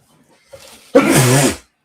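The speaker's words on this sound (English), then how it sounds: "Nasty sneeze. I apologize, folks." A single loud, explosive sneeze close up, preceded by a brief sharp inhale, then silence.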